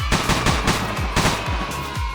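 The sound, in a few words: grenade launcher explosion in a Unity first-person shooter video game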